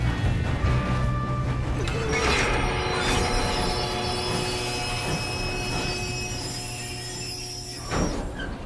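Train wheels squeal on the rails in the Red Dead video game, high metallic shrieks drawn out over a rumbling train, joined by a few clattering bangs and game ambience.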